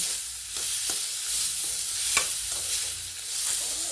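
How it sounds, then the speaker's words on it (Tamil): Tomatoes sautéing in a pan for Karnataka-style tomato bath, a steady broadband sizzle with soft stirring scrapes and a few sharper clicks of the spatula, close and continuous with no talking. "இந்த தக்காளி இதுலேயே நல்லா வதங்கணும்."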